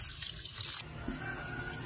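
Tap water running steadily, a close splashing hiss that briefly sounds brighter at the start, then continues as a softer, even flow alone.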